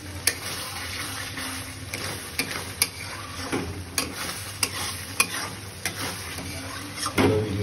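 Chicken for a Bihari-style gravy frying on high heat, a steady close sizzle with regular light stirring taps and clicks every half second or so, moderately loud, no talk.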